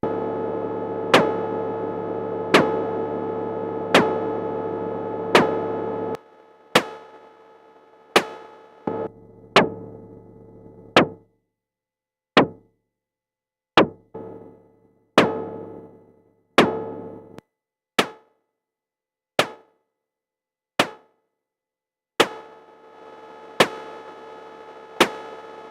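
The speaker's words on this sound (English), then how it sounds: "I'm blending the noise and the FM oscillator in a mixer and then going straight to the quad low pass gate." Synthesized cross-stick hits on a Buchla system, built from noise and an FM oscillator blended through a mixer into a quad low pass gate: sharp, woody clicks repeat in shifting rhythms, some with short ringing tails and others dry.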